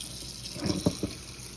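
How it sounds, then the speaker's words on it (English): Water poured into a pot of boiled burdock root after its bitter cooking water has been drained, a few short splashy pours close by and fairly quiet, with no talking. "And then the next thing we want to do is add some more water."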